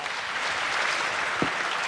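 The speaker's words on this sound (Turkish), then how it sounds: "Bir büyük alkış" Studio audience on the Popstar singing competition applauds after a performance, a steady, fairly loud wash of clapping with one brief low thump near the end.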